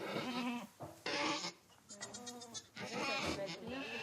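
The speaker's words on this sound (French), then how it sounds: "C'est nos chèvres qui font leurs petits" Newborn-season goats at a new farm bleat in loud, overlapping calls, with voices talking close by through much of it.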